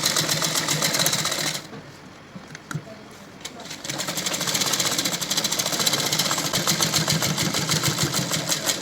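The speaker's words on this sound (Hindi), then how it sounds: "जिस शेप में ये कपड़ा कटा हुआ है उसी शेप में हम सिलाई लगाएंगे इसमें।" A sewing machine stitches fabric for a baby bloomer, whirring loud and close with a rapid steady needle rhythm, pausing briefly amid small handling clicks before running again.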